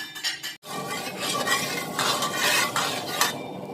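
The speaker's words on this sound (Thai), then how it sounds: "ไปค่ะไปผัดผักกาดดองกันค่ะ" Northern Thai pickled mustard greens stir-fried in a pan over high heat, a spatula scraping and clinking against the pan in close, busy strokes over a soft sizzle.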